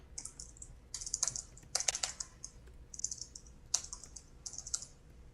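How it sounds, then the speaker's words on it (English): Rapid clicking keystrokes on a computer keyboard come in close, irregular bursts with short pauses between, alone with no talk. "Doing that thing when my mouth moves as I'm typing."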